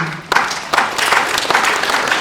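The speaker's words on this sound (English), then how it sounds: "Let's give a hearty clap for" An audience claps for Nancy Karigithu, Director General of the Kenya Maritime Authority, with applause starting abruptly after a brief pause and continuing loudly in uneven bursts.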